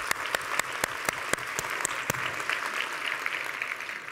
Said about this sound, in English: Let's give a round of applause for SACNAS.